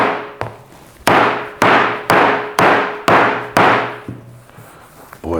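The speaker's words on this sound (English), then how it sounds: "let's start with the hammer" A hammer strikes a hard wooden surface six or seven times in a steady rhythm, each blow a sharp loud crack with a brief ringing decay.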